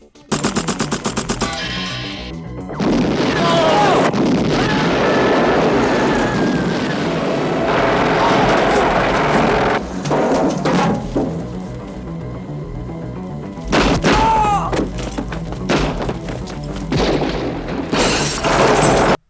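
Rapid machine-gun fire and booming explosions fill a chaotic 1980s Charles Bronson action-movie shootout, with loud sustained bursts, crashes and a few sharp breaks in the din.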